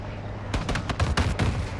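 Rapid bursts of gunfire in the Call of Duty Modern Warfare II video game, with several sharp volleys of automatic shots clustered close together at loud, steady level.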